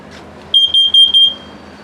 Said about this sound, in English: it's chirping. So that's for carbon monoxide and LP. Or I mean, I'm sorry, it's for carbon monoxide and smoke.